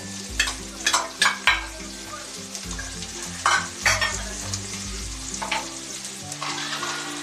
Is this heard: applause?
no